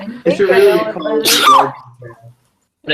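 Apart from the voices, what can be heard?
a high-pitched sneeze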